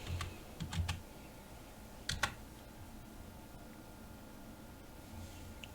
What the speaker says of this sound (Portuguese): Eu vou escrever Amanda.